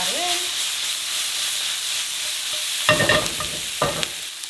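Two tablespoons of garlic fry in a hot pan for chicken tikka masala, giving a steady close sizzle and hiss with a few louder stirring scrapes near the end.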